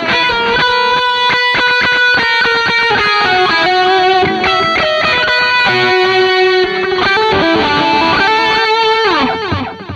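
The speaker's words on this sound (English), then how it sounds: "if you get this distortion on and you want to boost that" Electric guitar run through a distortion pedal with a boost engaged, a mid-gain tone from an affordable pedalboard, playing a steady stream of sustained, saturated chords and notes at loud, even volume with no talking.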